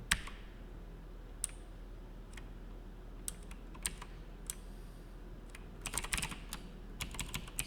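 Keys clatter on a computer keyboard, scattered individual clicks that turn into a quicker burst of typing toward the end, close and fairly quiet with no talk.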